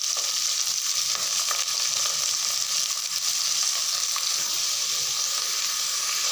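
Onions and green chillies sauté in a pan for a one-pot lunch-box rice, a dense, continuous frying sizzle with faint scraping of stirring throughout.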